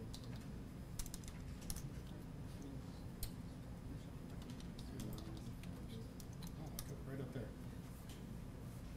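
Quiet, rapid clicking of several people typing commands on computer keyboards during a hands-on high-performance computing class, with irregular sharper keystrokes over a low room hum and faint background voices.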